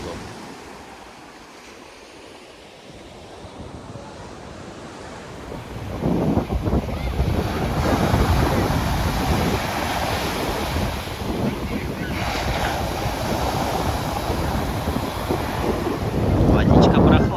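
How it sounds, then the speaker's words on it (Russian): Ocean waves roll and break on Santa Barbara beach on São Miguel in the Azores, a surf spot with long waves, as heavy wash builds after a quieter start, with strong wind buffeting the microphone throughout. "Здесь всегда длинные волны."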